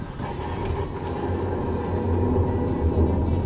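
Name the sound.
worn car brakes grinding metal to metal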